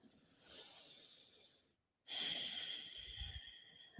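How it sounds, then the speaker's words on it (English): Two slow, deep breaths with a brief silent pause between them, close to the microphone, the second inhale louder and airier. "just take like 4 or 5 deep breaths"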